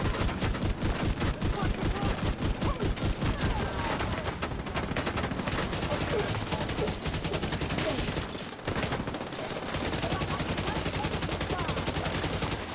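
Rapid, continuous bursts of automatic gunfire from shooting turrets in a video game rattle loudly and almost nonstop, with a brief pause near the end, while someone talks underneath.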